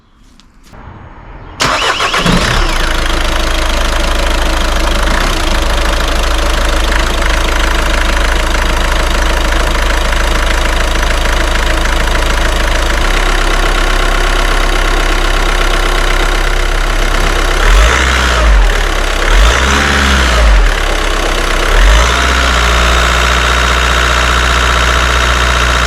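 A 2010 Audi A3 1.6 TDI diesel engine cranks and fires after a full service, then settles into a steady, loud idle with a faint knocking clatter, a few brief revs rising near the end.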